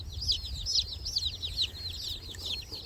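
Freedom Ranger meat chickens cluck and chirp in a quick, repeated chatter, several birds close by over a low background rumble.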